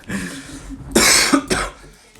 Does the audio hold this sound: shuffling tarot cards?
no